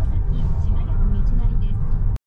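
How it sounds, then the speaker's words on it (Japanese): A Japanese right-wing propaganda truck rolls by close and loud, blaring old military songs through loudspeakers over its engine rumble, then the sound cuts off abruptly. "なんだ今の、すごい音を出しながら、なんかすっごい車来たぞ。"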